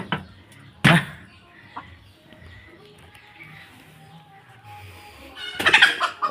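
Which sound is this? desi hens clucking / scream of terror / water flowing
desi hens clucking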